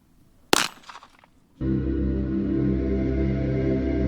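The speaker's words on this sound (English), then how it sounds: "Next up, we're doing the 9mm out of the Glock 17." A single sharp gunshot from a 9mm Glock 17 pistol fired at a Tannerite target rings out near and loud, followed after about a second by a steady, loud broadband droning noise.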